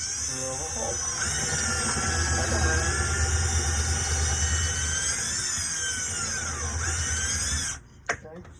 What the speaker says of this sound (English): gonna drill a hole.